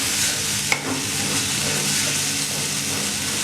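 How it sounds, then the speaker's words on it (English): Ramen noodles stirred into a bowl with sauce and chicken: a steady broadband sizzling, scraping wash with one sharp click early on, continuous and close, no voices. "Now I am going to add my ramen noodles into the bowl, and I am just going to mix them well."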